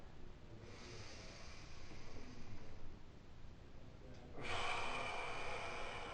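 Heavy, forceful breaths during a barbell pullover on a bench: a long, deep inhale followed by a stronger, louder exhale, close and breathy with a faint background hum.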